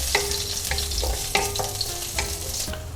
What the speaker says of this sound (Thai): ผัดกระเทียมนะครับให้มีกลิ่นหอมนะครับ